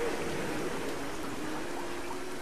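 Sea waves in the video game Dear Esther make a steady, soft, broadband wash with no distinct breaking crashes, continuous and fairly distant, with no voices.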